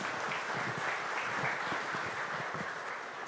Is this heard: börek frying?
no